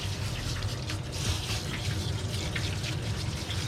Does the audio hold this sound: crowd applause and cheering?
no